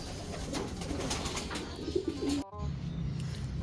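Racing pigeons cooing in a loft before feeding, low soft coos over a steady background rustle, close by, with a brief dropout midway.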